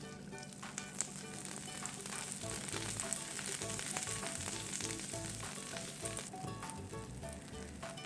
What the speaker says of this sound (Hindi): बटर के साथ ऑयल जो है उसको ऐड करके जब हम गरम करते हैं पैन पे